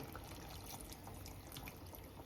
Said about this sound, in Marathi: थोडं पाणी ॲड करू